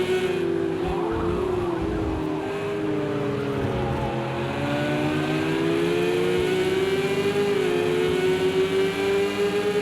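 Race car engines in Project Cars 2 at Imola drone and rise in pitch through gear changes, with several cars audible at once. The whine is loud and continuous throughout, and no one speaks.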